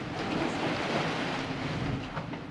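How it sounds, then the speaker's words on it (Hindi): A dense, continuous roar of boiling water churning inside the Dragon's Mouth hot spring vent at Yellowstone, loud and steady with a rumbling, surf-like texture throughout and no talk. "अच्छा इसका नाम है ड्रैगन्स माउथ, स्प्रिंग नाम है इसका।"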